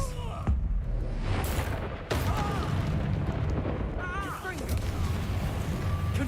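Blasts and bangs from the Expelliarmus disarming spell being cast during combat in the video game Hogwarts Legacy, a string of sharp booming impacts over a rumbling game soundscape.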